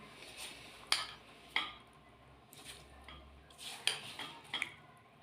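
Soaked poppy seeds tipped into a blender jug in a home kitchen, giving soft scraping and light clinks of a spoon against the jug, with a few sharper knocks spread through a quiet background.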